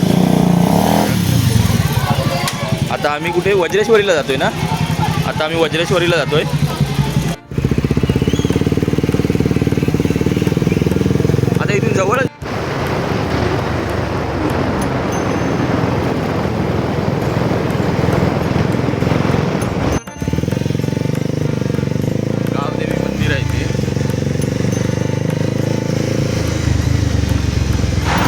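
A motorcycle rides along the road toward Vajreshwari, a steady engine drone running loud and continuous under someone talking, with a few brief breaks in the sound.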